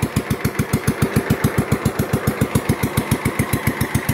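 A small mud runt off-road vehicle's engine idling, a fast, even chugging pulse that stays steady throughout, loud and close with no talk.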